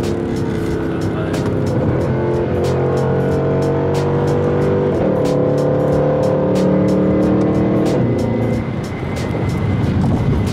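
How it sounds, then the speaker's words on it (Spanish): Mercedes C63 sports car driving, a loud sustained engine drone with rising and falling harmonic tones through gear changes, accompanied by wind noise and scattered clicks inside the cabin. "El sonido de este coche es..."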